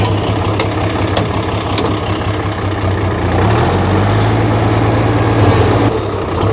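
A Farmall 806 tractor engine runs loud and steady through its muffler, a constant low throbbing drone with a slight rise in pitch partway through.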